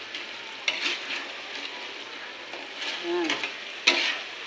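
Tofu fries and is stirred in a pan of chicken adobo, a soft sizzle under scraping and clinking stir strokes, with a brief spoken word.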